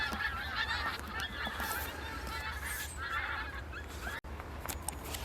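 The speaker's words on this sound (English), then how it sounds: "is it Canada geese or something" Canada geese honk repeatedly at a distance, a loose chorus of overlapping calls over faint outdoor background noise.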